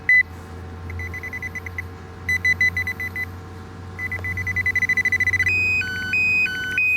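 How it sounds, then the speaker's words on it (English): Electronic beeping repeats in short bursts, then settles into a steady alternating two-tone pattern, clear and fairly close over a low background hum. "There's that beeping sound again."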